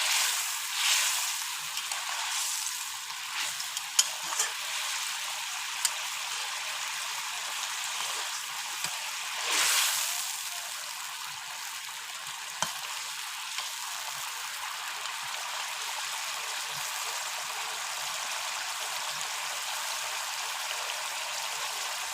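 Rupchanda fish curry bubbling steadily in a cooking pot, a continuous soft hiss and simmer with occasional faint pops, close and even throughout.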